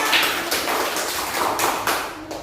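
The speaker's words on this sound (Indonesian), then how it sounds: "Tepuk tangan." A classroom group of students clapping together, steady moderately loud rhythmic claps with a few stronger accents, continuing for a couple of seconds without talk.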